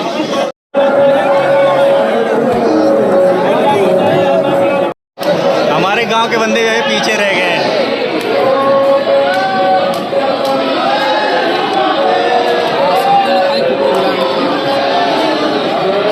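A big crowd packed around the Hanuman temple in Ayodhya, a steady close babble of many voices under someone speaking loudly into the recording.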